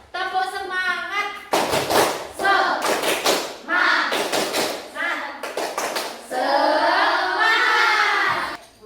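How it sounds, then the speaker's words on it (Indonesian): A group of people performs a rhythmic spirit clap in a classroom, bursts of loud clapping in a patterned beat alternating with voices chanting along. "Tepuk semangat."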